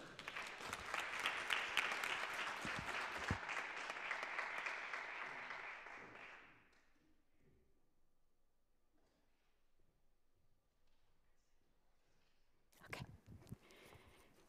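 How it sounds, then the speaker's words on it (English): An auditorium audience applauds a lecture speaker at a university lecture series, a dense, steady clapping that fades out after about six seconds, followed by quiet room tone and a few faint scattered sounds. "little applause for Professor Nóvoa just now."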